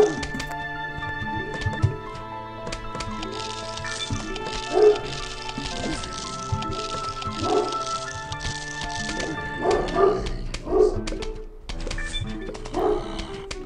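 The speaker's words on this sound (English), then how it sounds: "And there goes the dogs. Barking away." Dogs bark in short, irregular bursts at moderate distance, spread across the stretch over a steady background of game music and sound effects.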